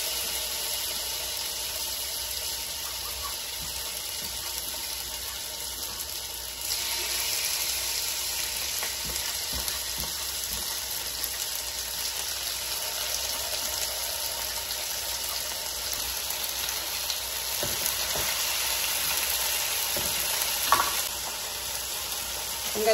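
Chopped chicken breast sizzles steadily on a hot comal griddle, a loud, continuous frying hiss that runs throughout, with a few faint clicks and clatters of handling.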